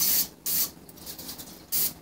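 Nonstick cooking spray is sprayed onto a Presto Flipside waffle maker in three short hissing bursts, close and crisp, with quieter gaps between them.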